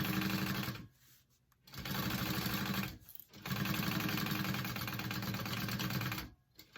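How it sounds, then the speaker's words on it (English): Sewing machine top stitching pieces of a daffodil tote bag, running in three steady bursts of rapid mechanical stitching with brief pauses between them. "Okay, so top stitch those two together."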